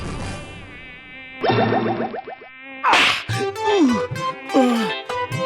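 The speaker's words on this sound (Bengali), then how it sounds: "একেই মশার জ্বালায় টিকতে পারছি না" A cartoon mosquito whines and buzzes in thin, rising and falling tones, joined by comic whooshes and a swatting whack, with bright animated sound effects in quick succession.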